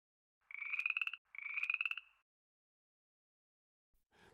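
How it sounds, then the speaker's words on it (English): Cartoon frog croak: two bright, buzzy ribbit calls in quick succession, close and clear against silence, followed by a faint short rustle at the end. "Oh, frog! She shrieked."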